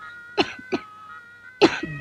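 Three sharp, dry coughs from one person, close by, the first two quick in succession and the third louder after a short pause, with quiet in between.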